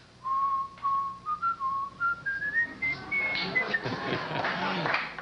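A harmonica player whistles a melody, clear rising and falling notes, then it grows busier as other sounds blend in.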